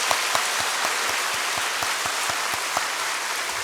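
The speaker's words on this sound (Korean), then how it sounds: "우리 하나님께 영광의 박수 올려드리겠습니다" Church congregation clapping together for God during a Sunday service, a loud, steady, rhythmic mass of claps with some strongly accented beats, no talk over it.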